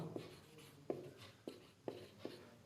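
Pen writing on paper during a class 8 maths solution lesson: quiet, close strokes in about five distinct scratchy bursts at a fairly even rhythm, with no talk.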